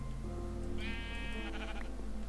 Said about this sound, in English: Sheep, what are you doing down here, dude?